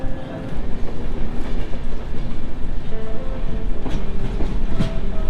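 A Gorakhpur superfast express train in India rumbles steadily along the tracks with a constant loud roar and faint rhythmic clatter of wheels, heard from inside a carriage.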